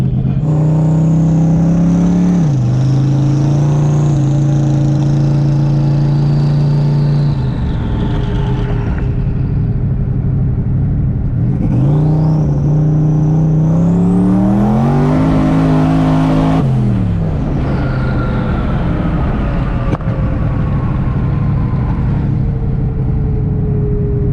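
A loud twin-turbo Cobra engine at high boost revs hard and climbs through the gears, pitch sweeping up, dropping at each shift, then surging again at full throttle.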